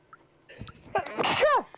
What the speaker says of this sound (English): Oh god, I gotta sneeze.